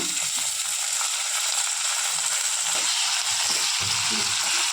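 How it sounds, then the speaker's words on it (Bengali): Onions sizzle steadily in hot oil in a pan for Bangladeshi begun bharta, a loud, continuous hiss at close range, with faint clinks and scrapes of a utensil underneath. "একটু ভেজে নিচ্ছি, বেশি ভাজবো না"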